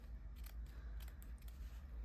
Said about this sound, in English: Oh, these scissors are so dull. I need to sharpen them after this.